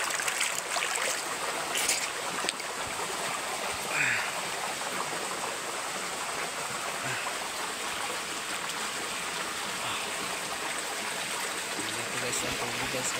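Steady rushing water fills the scene, a continuous broad wash like a nearby waterfall, with faint voices now and then underneath.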